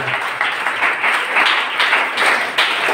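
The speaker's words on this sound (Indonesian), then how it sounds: "Beri tepuk tangan bagi Tuhan" Sustained applause from a church congregation during an Indonesian worship service, a dense wash of many hands clapping steadily at close range with no talk over it.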